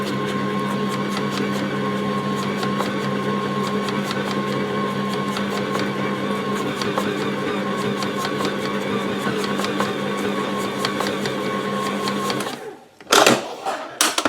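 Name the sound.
electric mixer mixing banana cake batter on slow speed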